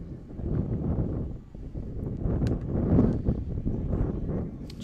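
Strong wind at Oakfield baseball field buffeting the microphone, a loud, continuous low rumble that swells and dips in gusts, with no clear speech.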